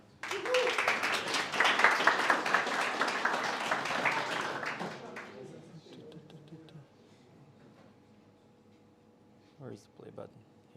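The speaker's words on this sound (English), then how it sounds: "please give them a big applause" Enthusiastic audience applause at a PHP meetup, loud and dense for about five seconds, then fading into scattered claps and quiet room noise with a few brief voices.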